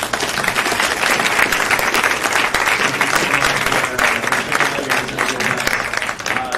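A meetup audience applauds panelists in a university hall, a dense, steady wash of many hands clapping at full loudness throughout with no pause.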